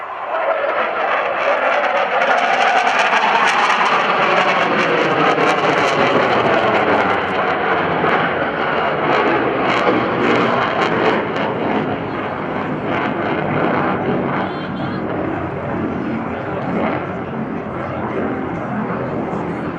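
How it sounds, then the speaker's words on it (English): An F/A-18C Hornet jet flying a pitch rate demonstration at the NAS Oceana airshow gives a loud, sustained broadband roar that swells and shifts throughout, steady and close without letup. "This is the A-18 Hornet pitch rate demo."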